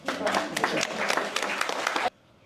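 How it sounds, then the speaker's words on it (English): Brief burst of audience applause after a talk-show guest is introduced, dense clapping for about two seconds before cutting off abruptly to near silence. "Let's give her a round of applause."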